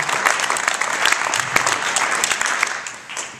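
A church congregation claps their hands together, a dense, lively burst of applause with sharp individual claps standing out, close and loud, with faint voices mixed in.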